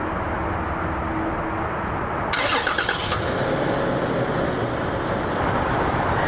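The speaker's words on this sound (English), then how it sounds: "This 4Runner is equipped with Toyota's optional remote start on the smart key access key fob." A 2019 Toyota 4Runner Nightshade starts by remote key fob: a short cranking burst over steady background hum, then the engine settles into a low, even idle.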